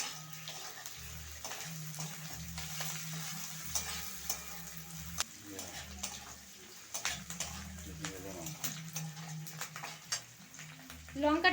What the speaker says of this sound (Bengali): লঙ্কাটা দিয়ে আমি আরো কিছুক্ষণ ভেজে নিয়েছি।